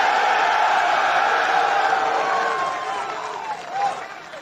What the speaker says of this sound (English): The cheers and applause you hear is the sound of the next generation of warriors